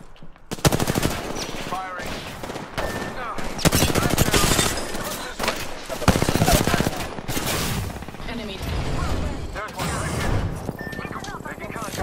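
Rapid automatic weapon fire rattles almost continuously through an Apex Legends-style shooter match, loud bursts and sustained volleys with heavy impacts, while players' voices talk over the gunfire.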